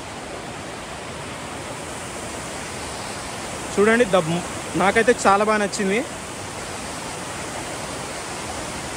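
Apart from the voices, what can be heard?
Kuntala waterfall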